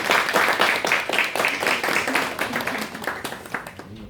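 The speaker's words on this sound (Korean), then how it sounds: "한번 박수로 한번 환영하도록 하겠습니다" A church congregation gives a short round of applause to welcome a new member, with dense clapping from many hands, loud and close at first, then thinning and fading over a few seconds.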